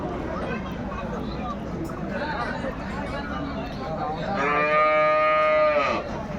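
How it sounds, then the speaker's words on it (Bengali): A cow lets out one long, loud moo near the end, rising over steady crowd chatter and murmuring voices at a cattle market selling cows and calves. "গাভী বাছুর আমরা দেখছিলাম এখানে"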